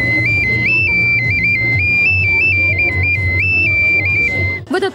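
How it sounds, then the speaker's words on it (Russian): Handmade folk clay whistle (svistulka), shaped by hand without tools, played in a steady warbling melody of high, bright stepped tones over a low background murmur of voices at an outdoor festival. "Это свистулька, сделанная своими, конечно, руками, без участия, каких-либо приспособлений. Очень красиво поет."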